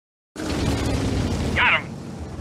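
A tank shell striking an enemy tank in World of Tanks, a loud sustained explosive boom that starts abruptly after a moment of silence and holds steady, with a short higher burst near its end.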